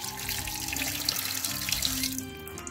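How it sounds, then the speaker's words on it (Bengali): Water runs steadily from a sink tap while freshly cut khaira fish are washed beneath it, a continuous close splashing stream that eases off near the end. "এইবার আমি খালি জলে ধুয়ে নেব"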